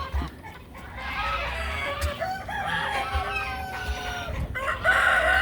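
Farm fowl squabble loudly close by, with raspy crowing and clucking calls that overlap in bursts as geese move in to break up the fight, under a low rumble of background noise.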